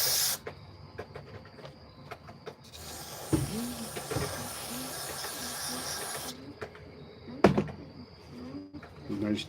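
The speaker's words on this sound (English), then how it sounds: "So did some carburetor cleaner in there." Carburetor cleaner sprayed into a running car engine during auto repair, a broad steady hiss lasting several seconds over engine noise, with brief clicks and clatter around it.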